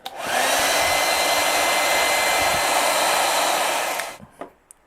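A heat gun blows steadily for about four seconds, loud and close, while it warms a tight-fitting action figure part, then cuts off and leaves a few small handling clicks.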